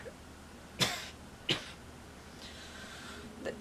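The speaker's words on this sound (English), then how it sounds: "The damn brat coughed all over me." A person gives two sharp, close coughs in quick succession, followed by a fainter throat sound and a soft rustle in a quiet room.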